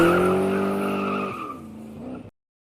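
A car's engine roars and tires squeal as it speeds away, a loud tonal whine that holds steady, drops in pitch partway through, then cuts off abruptly.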